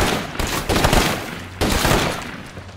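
Ingram submachine gun fire in State of Decay 2, loud dense bursts of rapid shots in two clusters, harsh and close, with no talking.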